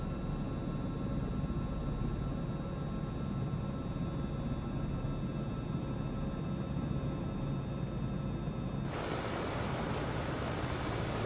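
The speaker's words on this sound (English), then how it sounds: "There's another chopper coming in looking like a Cherokee." A helicopter in Microsoft Flight Simulator over Long Island, New York, gives a steady droning whir with a constant hiss beneath it, even and moderately loud throughout, shifting to a brighter, noisier texture near the end, with no talking.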